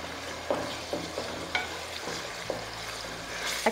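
Mutton frying in a pot for a cauliflower and meat curry, a steady sizzle with scattered stirring scrapes and clicks, close and moderately loud with no talk.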